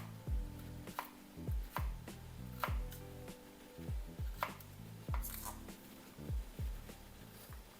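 A knife chops vegetables into small cubes on a cutting board in quick, regular taps, each sharp strike close and distinct, with a faint steady hum underneath.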